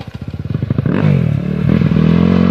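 A Viar 250 SF motorcycle engine pulses in rapid, chugging firing beats, then rises into a loud, strained roar as the bike climbs a slippery, damaged hill track close by.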